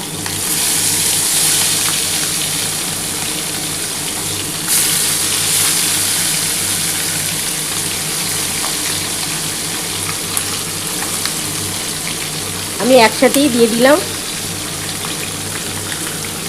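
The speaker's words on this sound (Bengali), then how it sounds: "আমি একটা থালা ঢাকা দিয়েই ভাজছি বন্ধুরা, কারণ প্রচণ্ড ছেটকায় ট্যাংরা মাছ" Tangra fish fry in oil under a plate cover with a loud, steady sizzle. A voice speaks briefly near the end over the frying.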